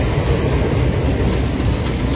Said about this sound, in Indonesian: Kereta api Matarmaja dari Malang tujuan Pasar Senen masuk stasiun Kepanjen.